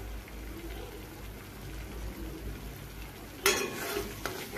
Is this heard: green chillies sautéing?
yes